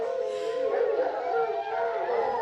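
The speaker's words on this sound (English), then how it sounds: "That's a hound." A hound howls in a long, wavering, drawn-out cry, fairly loud and close, with a slight rise and fall in pitch over a couple of seconds.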